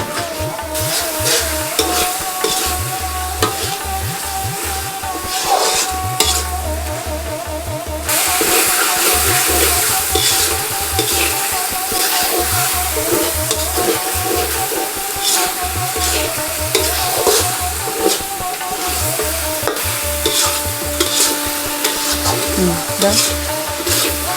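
Broiler chicken bhuna stir-fried in a pan: a loud, continuous sizzle with rhythmic spatula scraping and stirring strokes throughout, close and steady for over twenty seconds with no voice over it.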